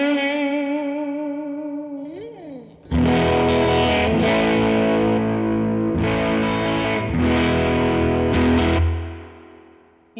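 Electric guitar played through a Source Audio One Series EQ2 pedal with an 80 Hz high-pass filter, a sustained chord bending in briefly, then loud distorted strummed chords ringing with effects, alone and close.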